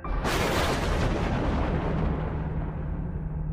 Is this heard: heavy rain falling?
no